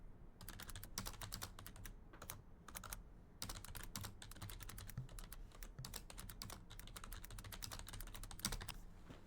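Rapid clacking keystrokes on a loud computer keyboard come in bursts with brief pauses, close and crisp, with no talking.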